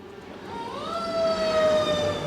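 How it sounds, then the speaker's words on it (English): An ambulance siren rises and wails in an SCP video game, a clear tone sweeping upward and then holding steady while growing louder, with a low engine rumble underneath. "Ambulance!"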